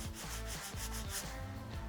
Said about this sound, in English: I'll get a hand sanding block and I'll just lightly sand down